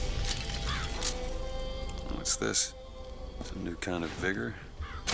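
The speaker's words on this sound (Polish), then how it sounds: "Głodne kruki powiedzmy." Hungry ravens caw in the video game BioShock Infinite, harsh repeated calls rising over a busy game soundscape, with someone talking across part of it.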